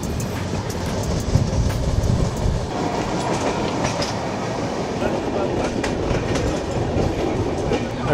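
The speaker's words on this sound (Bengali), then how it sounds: "রামপুরহাট আসছে ট্রেন" Kulik Express rolling in toward Rampurhat Junction: a continuous, dense rumble of wheels and coaches with a faint clickety-clack rhythm, heard close from onboard at an even level throughout.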